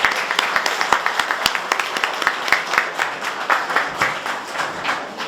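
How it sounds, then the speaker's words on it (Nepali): An audience at a hospital silver jubilee ceremony stands and applauds, steady clapping from a room of people with a few sharp, close claps standing out, continuing for several seconds. "उहाँहरूप्रति सम्मानका लागि एकचोटि उठेर ताली बजाइदिन यहाँहरूलाई अनुरोध गर्दछु"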